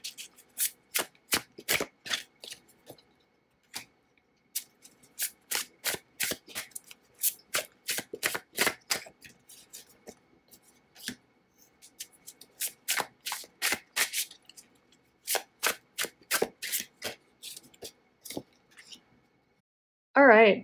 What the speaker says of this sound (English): So let me pull a couple more cards here.